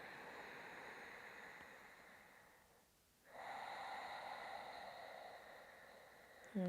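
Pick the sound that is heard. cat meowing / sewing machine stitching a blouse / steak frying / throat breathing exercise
throat breathing exercise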